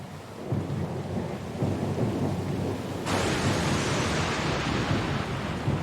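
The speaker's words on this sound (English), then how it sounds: "Lost and alone in the storm?" Thunderstorm with steady heavy rain in the video game Pillars of Eternity, a continuous loud wash of downpour that swells sharply midway as thunder rumbles in, with no voices.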